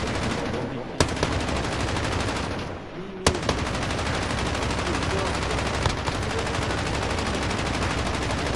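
Continuous rapid machine-gun fire from a video game rattles loudly throughout, with a few sharper single shots punctuating the sustained burst.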